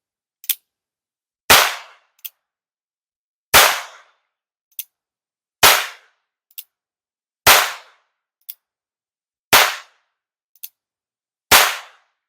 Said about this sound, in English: That was noticeably louder. That was a percussion cap.